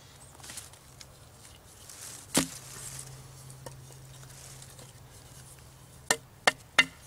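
A Yakut machete, or batiya, chops into dry seasoned hardwood, giving a few sharp, isolated impacts: one near the start and three quick strikes in a row at the end, over a quiet outdoor background with a low steady hum.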